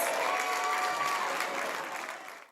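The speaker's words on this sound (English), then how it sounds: "Let's give him a big round of applause" Sustained applause from a crowd at a Torrance city event honouring 40 years of service, steady and full throughout, fading out at the very end.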